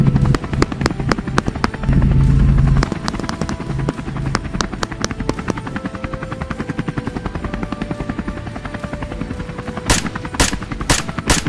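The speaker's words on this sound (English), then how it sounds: "The helicopter continued to circle," Helicopter circling over a field during a night wild boar hunt, its rotor thumping steadily throughout, mixed with rapid bursts of gunfire cracking repeatedly, some loud sharp shots near the end.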